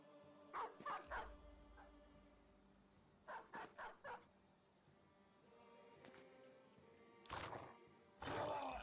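Dogs in the Battle Brothers video game bark in short clustered bursts of two or three yips, followed by a couple of louder, rougher bursts near the end, all fairly close with no talking.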